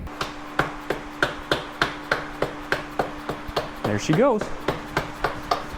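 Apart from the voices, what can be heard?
dead blow hammer tapping in a pivot bolt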